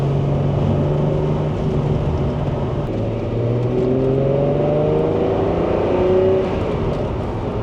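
A Ferrari Testarossa engine revs loudly and steadily, its pitch climbing and shifting through gears, up close with no voices.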